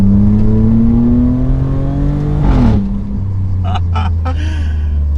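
A 2020 Alfa Romeo Stelvio Quadrifoglio SUV engine drones loudly, then revs up sharply in a rising roar before settling back to a steady rumble with faint clicks.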